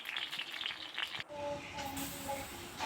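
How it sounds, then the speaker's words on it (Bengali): Bottle gourd pieces frying in hot oil until light brown give a steady, close hiss and sizzle with faint crackle throughout. "বাদামি করে ভেজে নিচ্ছি।"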